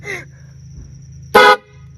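A loud air horn blast from inside a backpack sounds for a fraction of a second, close and harsh, after a brief faint toot at the start.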